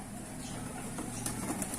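Fancy pigeons coo close by, soft, low, throaty murmurs rolling over one another in a brief, continuous stretch.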